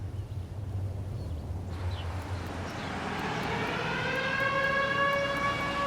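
A tornado alert siren for Jasper County and Joplin rises and wails steadily over a humid afternoon, its sustained tone swelling louder over several seconds above a low rumbling background.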